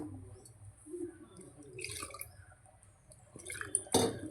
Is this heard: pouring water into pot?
yes